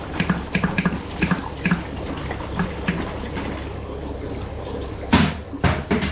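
Water splashes and trickles into a tank, with a series of light knocks early on and a louder gush of pouring near the end, close up.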